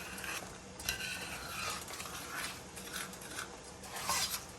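Creamy oyster mushroom stroganoff simmering in a pan on low heat, a soft steady bubbling sizzle with faint stirring scrapes and a few light utensil clinks, fairly quiet and continuous.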